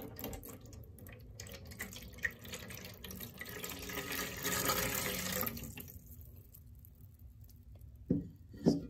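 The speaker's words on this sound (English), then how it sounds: "So I'm going to pour it inside my bin." Water pours and splashes into a plastic bin, a continuous trickling patter that swells toward the middle and then tapers off, followed by a few faint knocks near the end.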